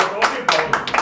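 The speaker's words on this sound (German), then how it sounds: "Ein Applaus für unsere Technik" An audience claps at an open song stage, a few quick, loud, close claps over about a second.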